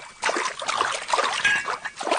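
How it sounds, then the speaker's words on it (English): Tea is poured into a cup outdoors beside a river, giving a hissing, trickling stream that wavers in strength over a couple of seconds, close at hand with no talk. "I'm just pouring a cup of tea here."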